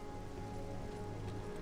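Rain falling in the video game Morrowind, a steady, soft hiss of drops over a low droning ambient score, continuous and even with no talking.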